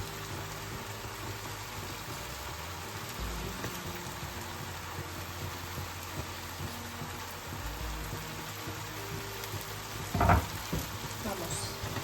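Tomatoes for a rustic oven-baked ratatouille cooking in a pan, giving a steady, moderate frying sizzle throughout with a brief louder clatter near the end.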